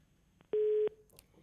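A telephone busy tone sounds after a caller's line drops during a live news phone-in: one short, loud, steady beep, close and clean over faint background hiss.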